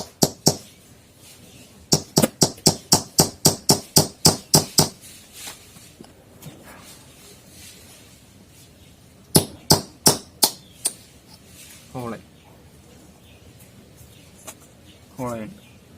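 A small nail being hammered into a coconut shell to make a hole: two bursts of sharp, evenly spaced taps, about a dozen then five, loud and close, with a person talking between them.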